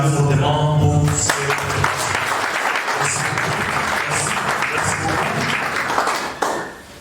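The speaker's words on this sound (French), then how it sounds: "nous vous demandons d'acclamer fortement pour ce" An audience at a youth development gathering in Mwene Ditu claps steadily in dense, sustained applause that fills the room for several seconds before tapering off, with a voice briefly audible at the start.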